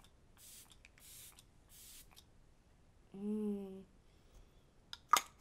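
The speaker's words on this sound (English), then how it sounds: "for a setting spray, I'm going to be using the Stay All Night Microfine Setting Mist." Three short, soft hisses of Stay All Night Microfine Setting Mist sprayed onto a face come in an even rhythm, followed by a brief voiced sound and a sharp click.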